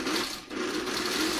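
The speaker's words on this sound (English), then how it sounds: "put my foot down and proceed to sew" A sewing machine stitching a Y seam on quilted hexagon flowers, a steady close, fast mechanical whir running continuously with a brief dip partway through, no talking.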